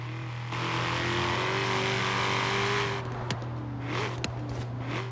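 Ford Mustang Shelby GT350 engine in Forza Horizon 3, a steady loud drone that swells for a few seconds and then eases into quieter revving with a couple of sharp blips, heard alone with no talk.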